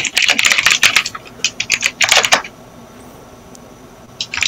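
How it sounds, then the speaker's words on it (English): Rapid, hard typing clatters on an outlandishly loud mechanical keyboard, close and crisp in dense bursts of keystrokes, then a pause of near silence before a few more keys strike. "I have a mechanical keyboard and it is outlandishly loud."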